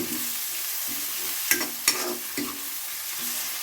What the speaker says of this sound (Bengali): আবার পেঁয়াজগুলো নাড়িয়ে দিতেছি